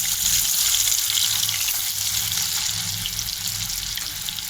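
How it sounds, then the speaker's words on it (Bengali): Paneer cubes frying one by one in hot oil, a loud, steady, dense hiss that holds without pause from start to finish. "তো দেখো, আমার তেলটা গরম হয়ে গেছে। এক এক করে আমি পনির ভাজবো।"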